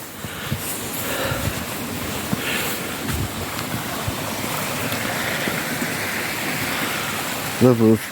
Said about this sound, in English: Lovely tranquil brook this.